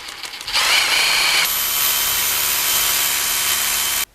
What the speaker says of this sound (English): I'm going to be using an SDS drill.